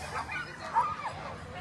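Sled dogs at a street sprint race in Anchorage yip and bark in short, fairly faint bursts under a steady crowd murmur before the start, with the yelps rising briefly toward the middle.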